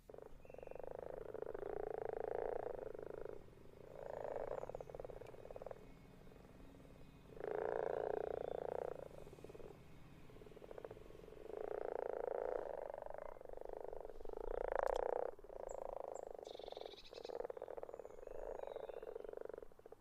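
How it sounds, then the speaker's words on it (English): Common frogs croak together at a garden pond during spawning, a steady close chorus of low purring rattles swelling and dipping in overlapping bursts, with no voices. "I'm going to put the microphone down next to the pond and I'm going to record the frog orgy"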